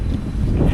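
Strong wind buffets the microphone at a lakeshore during a snakehead fishing trip, a steady, loud low roar filling the whole moment.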